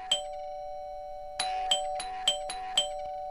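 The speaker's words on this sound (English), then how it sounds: "They've been ringing doorbells up and down the Rue and Avenue of France for half a century" An electronic doorbell chimes several times in a quick, bright ding-dong pattern, a steady tone ringing underneath, fairly close and clear with no talking.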